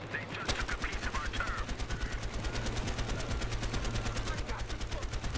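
A heavy machine gun fires in the Battlefield Hardline multiplayer game as one loud, rapid, sustained burst of evenly spaced shots, close up and continuous throughout.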